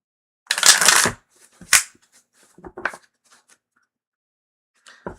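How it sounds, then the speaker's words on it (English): A Supernatural-themed tarot deck is shuffled by hand in a few quick crisp riffling bursts, the first longest and loudest, followed by softer scattered card taps and near silence. "I just think it's funny that I'm shuffling the Supernatural deck."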